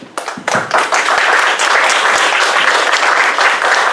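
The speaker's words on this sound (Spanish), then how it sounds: "Un aplauso." A room full of people applauds at the close of a panel talk on metals and industry, the clapping starting in a few scattered hands and swelling within a second into loud, sustained, dense applause.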